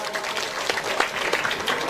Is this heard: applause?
yes